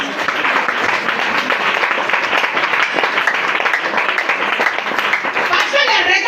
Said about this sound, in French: Oui, acclame le Seigneur